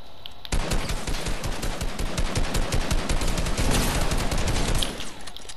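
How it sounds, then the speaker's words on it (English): Sustained automatic gunfire in a shooter video game, a teammate spraying rapid bursts from close range, dense and loud throughout with no talking. "His teammate shooting at me"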